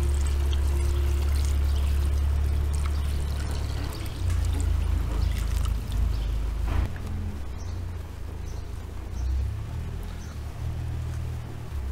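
Warm water pours steadily into a pot of rice for plov, cooked in a kazan over a campfire, with a low gurgling rush, continuing for several seconds before easing off, with faint clatter in the background.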